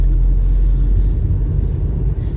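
A Renault Megane 2 on the move, giving a steady, loud low rumble of engine and road noise inside the cabin with no pauses.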